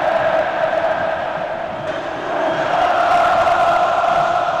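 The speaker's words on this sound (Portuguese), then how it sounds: "Acorda a torcida do Cruzeiro" Stadium crowd of Cruzeiro football supporters in a 1999 Brazilian league match against Atlético-MG, a steady loud roar of many voices filling the whole stretch, swelling slightly toward the end.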